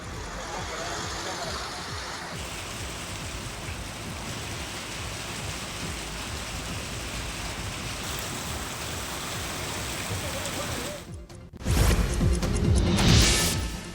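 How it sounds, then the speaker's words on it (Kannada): Heavy rain pours down on a road used by motorists, a dense, steady hiss that continues evenly before a louder, rougher burst near the end. "ಧಾರಾಕಾರ ಮಳೆಗೆ ವಾಹನ ಸವಾರರು ಹೈರಾಣಾಗಿದ್ದಾರೆ"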